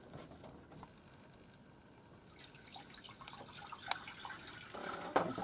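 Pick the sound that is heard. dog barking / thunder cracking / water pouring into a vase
water pouring into a vase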